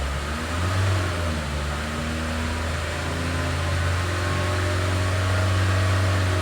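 Range Rover engine with a blocked DPF held at raised revs, a steady droning hum with a strong low tone and broadband roar, loud and close, running continuously without voices.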